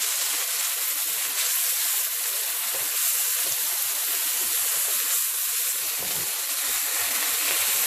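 Soya sauce poured into a hot pan for baby corn Manchurian hisses and sizzles loudly and continuously, a dense steamy frying hiss with no talk.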